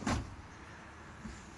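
Cutlery drawer in the kitchen of a 2018 Chausson 628 EB camper van slides open with a quick rumbling thud, then a faint rattle of contents before a small knock at the end.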